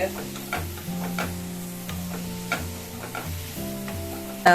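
Mushrooms sauté in an oiled pan for mushroom butter masala, with a soft sizzle and repeated spatula taps and scrapes at an irregular pace, all under steady background music.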